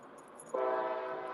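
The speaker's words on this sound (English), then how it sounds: "I apologize for the train." Low rumble of a passing train, then a train horn suddenly blasts in and holds loud and steady to the end.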